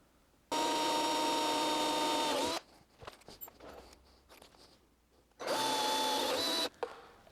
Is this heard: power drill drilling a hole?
yes